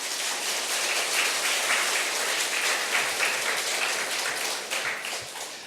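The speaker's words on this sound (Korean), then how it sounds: "우리 나오실 때 큰 박수로 한번 환영하겠습니다" A church congregation gives the preacher a welcoming round of applause at a Sunday service in Ulsan, a dense, steady wash of many hands clapping that carries on throughout and eases slightly at the end.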